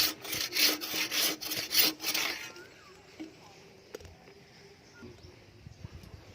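A bow saw rasps back and forth through tamarind wood in about eight quick strokes, then stops, leaving faint background noise and a few light knocks.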